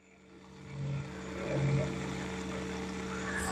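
A water pump running after a valve is spun open during a tub clean-up, a steady low motor hum with a droning tone that swells slightly and holds, moderately quiet.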